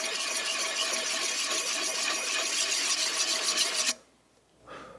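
A bushcraft axe edge is sharpened with steady, close rasping strokes across its whole length, a continuous gritty scrape that stops abruptly near the end, followed by one brief quieter rub.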